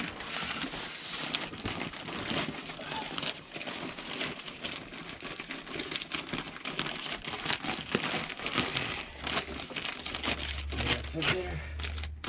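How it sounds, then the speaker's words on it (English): House wrap is sliced with a CRKT knife while a four-season room floor is being insulated, giving a continuous crinkly, papery rustle and tearing close by, with some voice in the background. "I decided to cut it first, so I'm using my CRKT knife."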